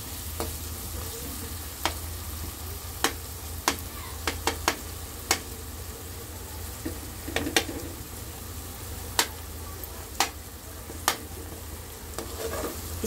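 Pasta with sweet corn, mixed vegetables and coriander is stirred in a hot pan, giving a steady low sizzle broken by sharp, scattered clicks of a spoon against the pan, with no talk.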